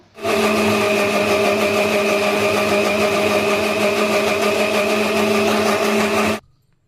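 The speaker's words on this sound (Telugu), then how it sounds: "దీన్ని అయితే ఇప్పుడు మనం మిక్సీలో వేసేసుకొని మిక్సీ పట్టేసుకోవాలి." A mixer grinder whirs loudly and steadily for about six seconds grinding soaked wheat rava with water into batter, then cuts off abruptly.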